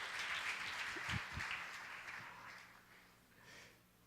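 Crowd applause fills a large church, a steady broad patter of many hands clapping that gradually fades toward the end.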